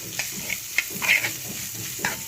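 Tempering for a chutney fries in hot oil with a continuous crackling sizzle, punctuated by several short stirring scrapes and pops close by.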